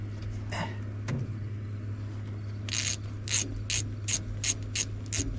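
A hand ratchet tightens a bolt while shocks are installed on a squarebody Chevy truck, giving a run of about seven sharp, evenly spaced clicks over a quiet, low background hum.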